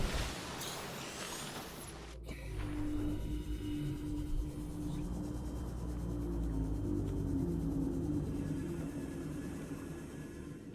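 Deep, drawn-out Leviathan creature calls from the underwater game Subnautica moan and groan at low volume, a sharp click early on, with a droning underwater ambience throughout.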